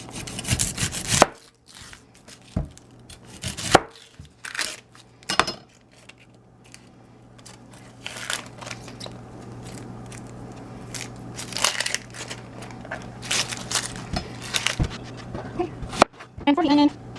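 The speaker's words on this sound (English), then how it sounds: "Now I'm going to cut up the onion." A knife chops an onion into thin slices on a cutting board while cooking Filipino pancit bihon, giving irregular clusters of sharp close taps with pauses between bursts, and a voice talks over parts of it.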